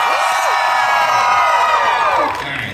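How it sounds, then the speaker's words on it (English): Loud crowd of convention-goers at an anime panel Q&A cheering and whooping together in one sustained burst, many voices blending, fading slightly at the end. "I want you to cheer for the thing you care about more."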